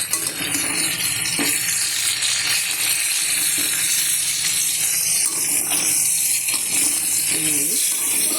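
Black cumin and mustard seeds sizzle in hot oil in a pan, with potatoes to be added: a loud, steady, close-up frying hiss that runs unbroken for the whole stretch.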